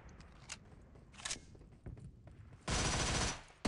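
Pistol shots in a close-range mobile shooter match, several quiet cracks scattered early, then a loud sustained burst of gunfire near the end, set over faint game background noise with no speech.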